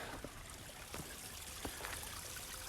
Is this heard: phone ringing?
no